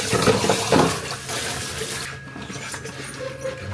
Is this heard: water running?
yes